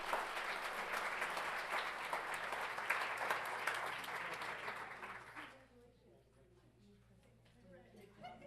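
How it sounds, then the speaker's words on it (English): Audience applause at a school board meeting, a full room clapping evenly for over five seconds before stopping abruptly, followed by quiet room tone with faint murmuring. "One more time, let's give them a huge round of applause"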